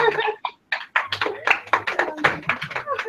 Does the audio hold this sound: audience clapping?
yes